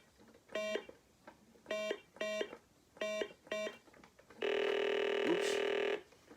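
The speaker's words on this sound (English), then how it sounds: "You hear the buzzer?" An electronic Simon memory game, the 1978 original or the pocket version, sounds five short evenly pitched tones, then a loud sustained buzzer lasting about a second and a half as the player loses.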